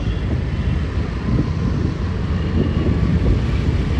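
An airplane flies overhead near an airport, giving a steady, loud, broadband roar that holds at an even level for the whole stretch with no voices over it.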